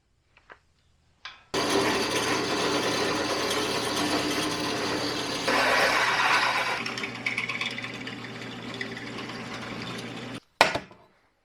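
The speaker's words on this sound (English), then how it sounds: "So we have to deburr everything, get the scale off for welding." Grinding tool deburring and stripping scale off a U-joint ahead of welding, a loud steady mechanical whir running continuously for about nine seconds after a few short taps, pitch shifting slightly midway.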